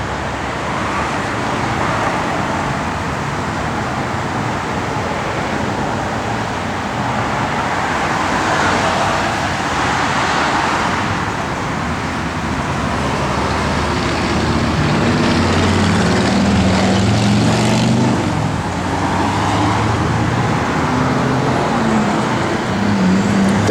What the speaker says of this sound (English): the car runs and drives excellent